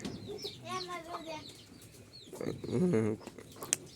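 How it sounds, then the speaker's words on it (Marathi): Chickens clucking on a goat farm, a few close squawks and cackling bursts, loudest near the end, with a faint voice in the background. "बाकी बघा इकडे कोंबड्या वगैरे आहेत"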